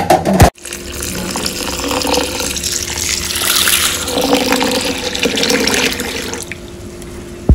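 Water is poured over rice and lentils to soak them. After a brief knock comes a close, continuous splashing pour lasting several seconds, with no talk.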